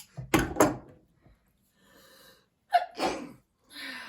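Two quick sneezes burst out close by, followed after a short pause by another sharp sneeze, with faint rustling between them and no speech.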